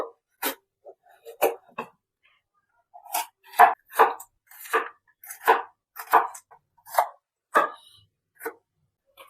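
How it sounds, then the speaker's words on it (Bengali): A knife chops through capsicum on a cutting board in quick irregular bursts of sharp, close taps, with short pauses between runs of strokes. "এবার একটা ক্যাপসিকাম নিয়েছি, এটাকে কেটে নেব"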